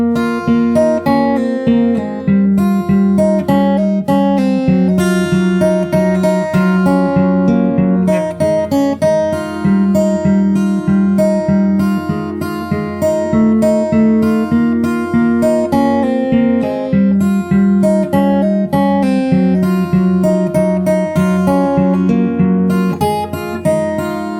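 Fingerstyle acoustic guitar playing a song, plucked melody over bass notes in a steady rhythm, loud and close with no talking.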